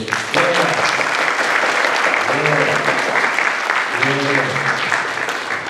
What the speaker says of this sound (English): Clap it up for Stampede here